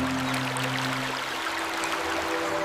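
Small waterfall splashing among stones in an open clearing, a steady broadband rush of flowing water with a faint tonal hum running underneath.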